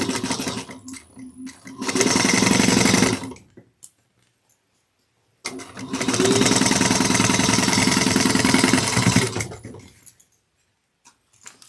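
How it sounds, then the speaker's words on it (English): A sewing machine top stitches zippers onto lining at 1/8 inch in two loud, steady runs of rapid needle chatter, separated by a short pause with a few faint handling clicks and near-silence. "we're going to top stitch or base this down using 1/8 of an inch"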